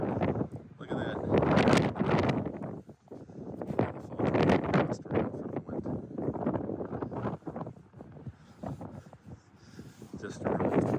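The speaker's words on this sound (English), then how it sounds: "It's very windy" Strong outdoor wind buffets the microphone in heavy, roaring gusts that rise and fall throughout, with a voice faintly heard underneath.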